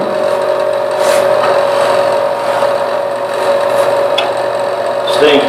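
Sandpaper rubs against a spinning wooden vessel on a woodturning lathe, a steady close rasping hiss over the motor's constant hum, with a few brief scratchy accents near the end.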